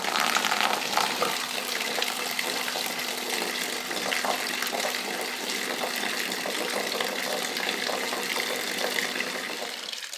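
Steady gushing water drains from a Routemaster double-decker bus engine cooling system with a failed water pump, a close, even rushing flow with no pauses.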